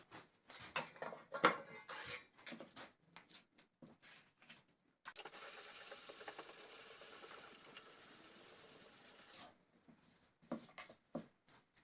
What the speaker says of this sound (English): The knifing paste is dry and I'm going to flat it off with this 600 wet and dry.